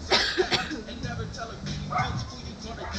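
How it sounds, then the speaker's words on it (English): Near, quick dog barks and yips come through during a live home workout warm-up, breaking in among a person talking. "The dog's barking"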